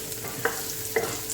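Large square-cut onion pieces fry in a pan for Italian pasta, a steady soft sizzle with two sharp utensil clinks as they are stirred.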